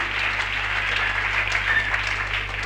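A church congregation applauds and cheers for Jesus with steady clapping that carries a hum of voices under it and fills the room for the whole stretch, heard loud and close.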